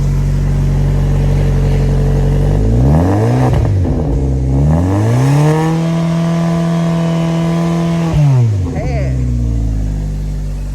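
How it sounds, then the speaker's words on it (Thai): A car engine with a very short exhaust pipe revs hard twice, each time climbing to a loud, droning roar and holding it before dropping back to idle, heard close up. "ฟังเสียงท่อหน่อยโอ้โหโคตรสั้นเลยนะ"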